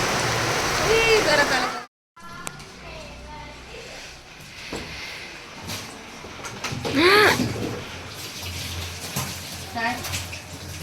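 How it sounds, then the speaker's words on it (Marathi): Steady rain patters and splashes throughout, with brief voices speaking over it and a short dropout near the start. "पाऊस सुरू झालेला आहे मस्त असा"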